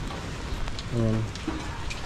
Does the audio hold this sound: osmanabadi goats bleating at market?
no